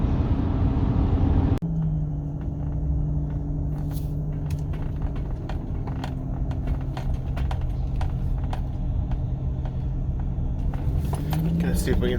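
A bus drives along the road, its engine a steady, close, low rumble from inside the cabin that runs through the whole stretch, with light clicks and rattles over it.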